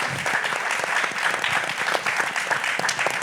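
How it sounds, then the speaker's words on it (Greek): Continuous audience applause at a post-performance talk in an arts venue, a dense, even wash of clapping throughout. "Χειροκρότημα. Μπράβο."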